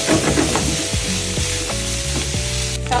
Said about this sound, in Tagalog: Ilalagay na natin yung white onion.